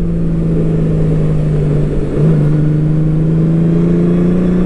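A 2023 Honda Goldwing DCT motorcycle with reflashed engine tuning cruises and pulls harder, a loud, steady engine drone with a brief dip before the pitch climbs again as it accelerates, with wind rush and no talk.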